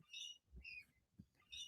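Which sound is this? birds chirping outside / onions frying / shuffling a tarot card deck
birds chirping outside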